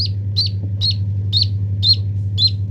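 A hatching duckling gives high, thin peeps repeating at a steady pace, about six evenly spaced calls, over a low constant hum.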